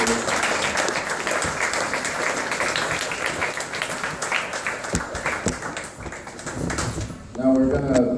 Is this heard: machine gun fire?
no